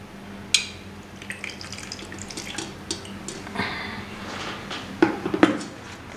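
Tap water runs into a sink while baby bottles and spoons are washed, a steady close splashing stream with a few sharp clinks of bottles and utensils.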